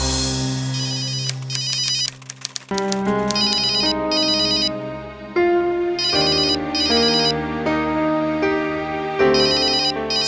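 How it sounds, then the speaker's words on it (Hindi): Mobile phone ringtone playing a bright electronic melody, repeating tonal phrases with short gaps, loud and close with no talk over it. "फोन बज रहा है तुम्हारा"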